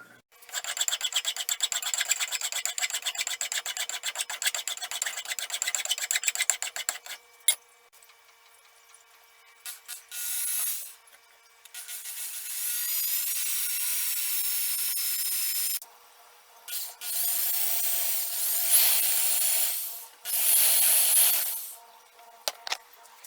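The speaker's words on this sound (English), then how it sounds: "I'm going to file a flat side on the top." Rasping strokes of a hand file on metal while making a buckshot mold, first a long steady run of scraping, then several separate bursts of filing with short pauses between them.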